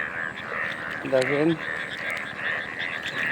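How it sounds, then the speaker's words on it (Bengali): Frogs croaking in a rain-flooded field after a heavy overnight downpour: a steady chorus of calls in the background, with one louder, nearer croak rising briefly above it, and a person speaking a word. "ব্যাঙের যে আগমন"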